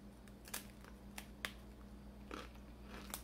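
Fried plantain chips from Peru being bitten and chewed, a few sharp, crisp crunches spaced irregularly over a quiet background, close and fairly soft.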